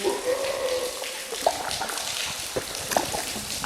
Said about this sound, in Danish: Og der er ret mange steder, hvor der drypper vand ned.